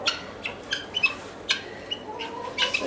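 Young guinea fowl give short, sharp calls at night, several separate squawks and clucks spread irregularly across a few seconds, fairly close, over a faint outdoor background with no talking.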